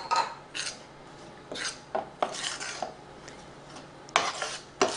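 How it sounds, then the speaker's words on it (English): Flour being stirred into melted butter in a pan over low heat for a Southern chicken casserole, heard as repeated scraping and clinking strokes of a utensil against the pan, close and fairly loud, with no talking. "Just get that mixed up real good. Be sure all the lumps are out of it."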